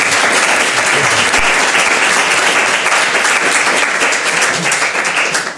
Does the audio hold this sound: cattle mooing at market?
no